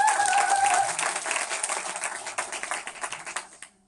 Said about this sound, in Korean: 박수 받으셔야죠.